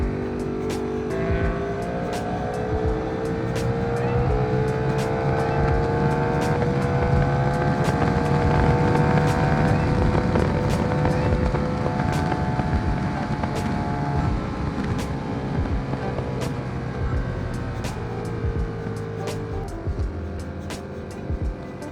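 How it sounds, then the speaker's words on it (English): A loud Aprilia RSV4 motorcycle engine revs and passes on a San Jose street, its rising and falling tone swelling to a peak midway and then fading, with wind noise throughout. "that RSV4 is loud as fuck"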